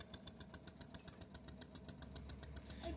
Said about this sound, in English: So this is an oscillating steam engine that I built when I was about 15 or so.